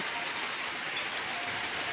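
Steady rain hisses continuously over a village football game, a dense wash of drops on surfaces with no break, fairly loud and even throughout.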